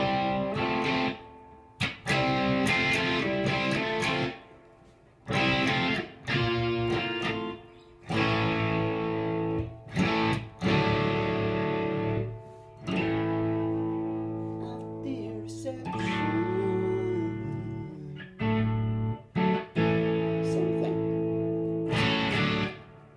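An electric guitar plays a riff through heavy distortion in the treble position, with downward bends and double stops in loud, choppy bursts broken by brief gaps.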